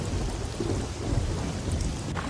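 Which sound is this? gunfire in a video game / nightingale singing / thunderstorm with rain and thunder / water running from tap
thunderstorm with rain and thunder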